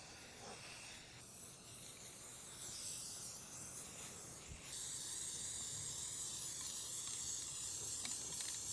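Spray paint hisses from an aerosol can onto a DIY dice side table in one steady, continuous stream, louder in the second half, with no voices.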